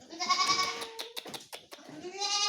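Several young goats bleat in quick succession, close by, with short wavering cries and a longer drawn-out bleat at the end.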